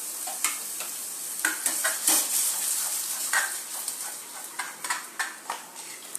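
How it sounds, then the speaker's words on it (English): A tomato, onion, garlic and bay leaf sauce simmering in a pan, with a soft continuous sizzle under repeated scraping stirs of a spoon against the pan at an uneven rhythm, close up. "The sauce will take approximately 10 to 15 minutes of cooking."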